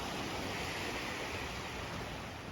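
Ocean waves wash onto Pak Meng Beach in Trang, Thailand, as a steady, even hiss of surf with no breaks or voices.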